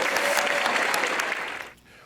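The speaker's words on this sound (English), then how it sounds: "Give her a round of applause." Audience applause at a live festival magic show, a dense burst of clapping from a crowd that fades out over about two seconds, with faint talk underneath.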